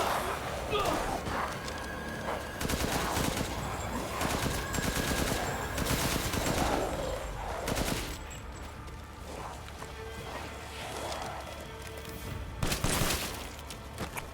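Rapid automatic gunfire and explosive bursts from the video game Resident Evil Village, a dense, continuous barrage with thuds and crashes, under excited talk from a player.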